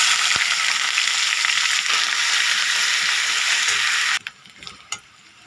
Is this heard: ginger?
yes